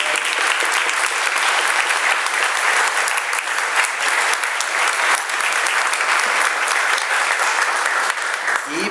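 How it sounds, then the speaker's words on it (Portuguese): A large audience at a talk on rights of nature and alternatives to development breaks into loud, sustained applause, a dense, steady wash of clapping with no let-up. "Então também peço uma salva de palmas e agradecimento."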